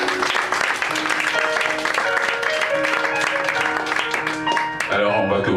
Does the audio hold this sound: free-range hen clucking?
no